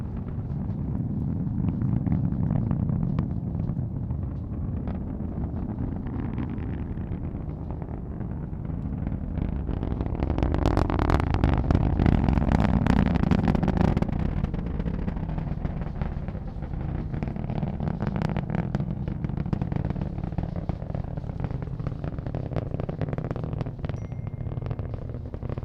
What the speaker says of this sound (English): Let's listen in to the roar of the Falcon 9's Merlin engines.